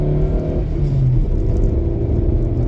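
Dacia Sandero (2013-2020 model) driving along country roads, its engine droning steadily with harmonic tones rising as it pulls, plus continuous road and tyre rumble throughout, close and loud from inside the cabin.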